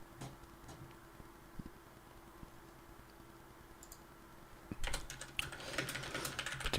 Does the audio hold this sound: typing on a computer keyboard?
yes